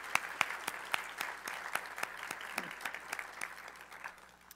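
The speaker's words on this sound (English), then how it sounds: "giving all of them a round of applause." An audience at a STEM education event breaks into a round of applause, dense steady clapping from a crowd sustained throughout, fairly distant and even in level, with no talk over it.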